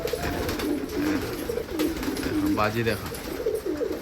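Pet pigeons, kept as a mixed flock in a room, coo in repeated soft, throaty phrases close by during rainy weather, with a person talking over and between the calls.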